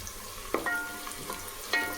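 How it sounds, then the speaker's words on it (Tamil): Sliced onions and stone flower (kalpasi) sautéing in oil for a quick pressure-cooker rice dish, with two distinct spoon strokes scraping the pan over a soft, low sizzle, close by and without speech. "வெங்காயம் நல்லா வதங்கும்போது கல்பாசி கொஞ்சம் இந்த டைமில் நம்ம எண்ணெயில் போட்டுக்கலாம்"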